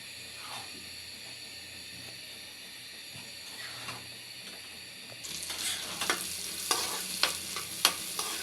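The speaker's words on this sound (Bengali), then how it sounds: "বাদামটি একটু হালকা করে ভাজা নেব, বেশি করবো না।" Nuts lightly frying in ghee for sweet payesh, a soft steady sizzle that turns busier partway through as a spoon stirs and scrapes the pan with several distinct clinks.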